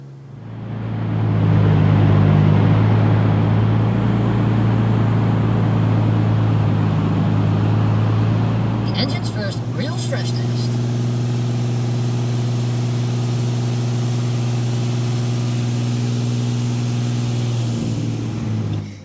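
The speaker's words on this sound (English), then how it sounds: "Running the engine hard the first time after it's rebuilt, it was a little worrying how she smoked" A freshly rebuilt car engine runs up loud and rough with a steady deep hum, then settles into a smooth, even idle close by, with a brief clatter of rattling noise midway and no talk.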